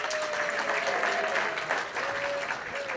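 Audience applause fills a dinner hall at a community awards ceremony as an honoree's name is announced, a steady dense clapping wash heard up close with a faint voice or tone running beneath.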